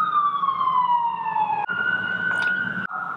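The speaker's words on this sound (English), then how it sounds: "And can you hear those sirens?" Emergency vehicle sirens wail nearby, a loud wavering tone sliding slowly downward, then cutting to a steadier rising pitch before switching again, continuous and prominent over faint road noise.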